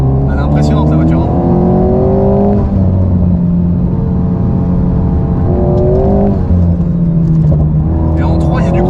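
An Alpine sports car engine revs and accelerates hard on a track during drift driving, its pitch climbing in repeated loud sweeps with gear changes, close and continuous.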